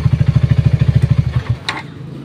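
A motorcycle engine, just back together after a throttle body cleaning, runs with a steady fast low thumping pulse. Near the end it drops away to an uneven idle, with a short metallic rattle.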